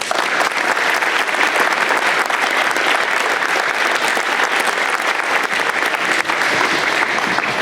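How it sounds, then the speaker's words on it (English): At a school awards night, the audience gives a long, sustained round of applause: a thick, even roar of many hands clapping, loud and unbroken throughout. "So let's give them a round of applause."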